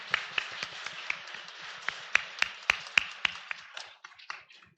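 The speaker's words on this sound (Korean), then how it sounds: "서로의 얼굴 보시면서 좀 박수해 주실까요?" Church congregation clapping for one another, a loose scattering of distinct hand claps in an irregular rhythm, close and crisp, with sharper individual claps standing out before trailing off.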